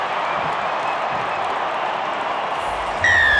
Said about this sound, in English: Crowd are on their feet.